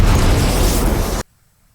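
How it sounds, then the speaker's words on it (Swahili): A gunshot in a film cracks out as one loud, sustained blast that fills the sound for about a second before cutting abruptly to near silence. "Nasikia kama mlio risasi huo."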